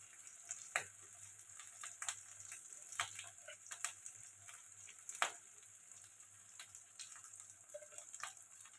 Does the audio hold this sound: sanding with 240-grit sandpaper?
no